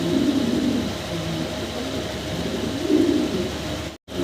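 Fancy pigeons for sale coo nearby in two low, throaty phrases, one at the start and another near the end, over a steady background hum with no talking.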